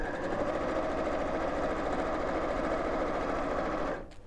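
Sewing machine stitching a seam on a pearl bead handle purse, a fast, even mechanical hum and needle rattle running steadily for about four seconds before stopping abruptly.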